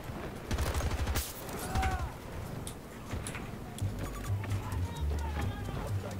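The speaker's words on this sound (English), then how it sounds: "I've got a machine gun." Machine gun fire in Battlefield 2042, with bursts of automatic shots and mechanical clatter mixed with other battle noise, heard under overlapping voices of players talking.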